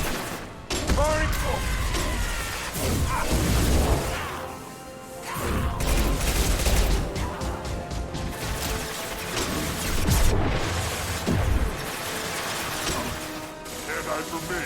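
Weapon fire in Mass Effect on Insanity difficulty, bursts of shots and impacts with crashes and mechanical clatter, loud and continuous under game music and effects, with voices talking over it.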